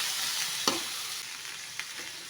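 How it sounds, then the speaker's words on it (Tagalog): String beans (sitaw) adobo being stirred in a pan, a steady soft sizzle with a couple of distinct scraping clacks of the utensil against the pan, close up with no talking. "Haluin lang natin."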